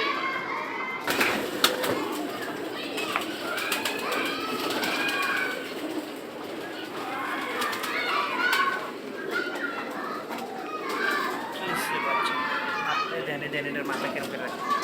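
Many pigeons of mixed breeds at a pigeon market coo steadily close by, the throaty calls overlapping with one another while people talk and chatter throughout.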